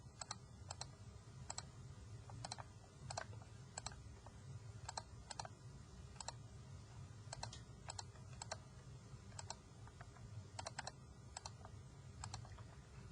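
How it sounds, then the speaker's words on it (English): Data is keyed in on a computer keyboard in quick, uneven bursts of crisp clicking keystrokes, close and fairly quiet, against a low steady room hum. "I'm going to start typing in the data."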